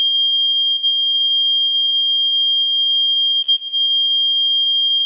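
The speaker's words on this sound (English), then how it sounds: "they're having some trouble hearing with the, fire alarm testing going on." A fire alarm under test sounds one loud, continuous high electronic beep tone that holds steady throughout, with only a brief dip near the end.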